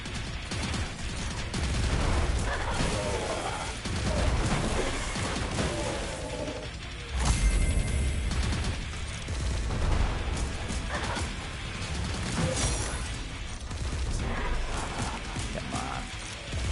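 Busy gunfire in the VR bullet-hell shooter Evasion, a chaotic clatter of rapid shots and mechanical whirs that runs throughout with several louder bursts and no talking.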